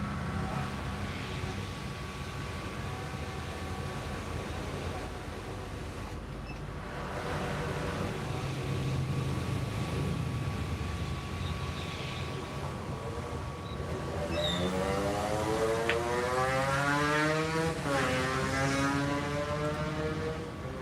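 A sticker-making machine runs with a steady droning hum and whine, growing louder midway and adding a rising, warbling tonal sweep near the end, continuous and close with no voices.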